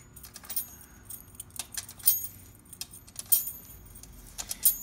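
Thule roof-rack keys jangle in quick, bright metallic clusters, shaken several times close by, with faint background noise underneath and no talking.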